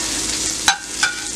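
Ingredients for sauce picante fry in a hot pan with a steady, loud sizzle, broken twice by brief clacks of stirring.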